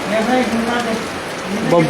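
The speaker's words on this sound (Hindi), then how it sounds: "अब बारिश देखो जनजनाती" Heavy rain falls at a farmhouse as a steady, broad hiss, with someone talking over it at close range.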